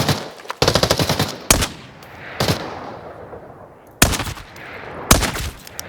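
Bursts of rapid automatic gunfire and single heavy shots in the video game Arena Breakout: Infinite, loud and close, separated by short pauses with lingering echo.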